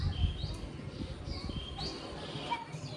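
Birds chirping outdoors on an evening after rain, faint scattered tweets and short calls with a possible low coo, distant and quiet over soft background ambience.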